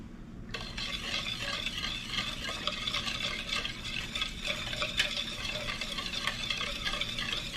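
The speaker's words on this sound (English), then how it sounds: "You're going to whisk all that together really good." A whisk beating melted unsalted butter into a mixture in a bowl, a fast continuous scraping, rattling swish that stays steady and close throughout with no talking.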